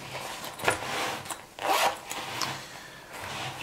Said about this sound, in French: En partie basse, on retrouve une nouvelle poche qui se ferme avec une fermeture éclair